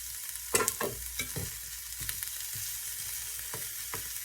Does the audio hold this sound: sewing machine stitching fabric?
no